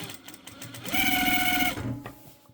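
A sewing machine runs steadily for about a second, hemming and rolling an overlocked fabric edge on a babywearing bag, its motor whine rising, holding and stopping, with soft handling noises before and after.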